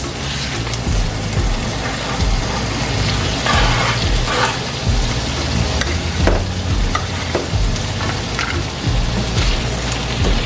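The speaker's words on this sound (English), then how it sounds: "start mixing everything around, and then I'm gonna go ahead and add my potatoes" Potatoes are stirred into sizzling carne con papas in a pan, a steady loud frying hiss with scraping stirs and clinks close up, no talk.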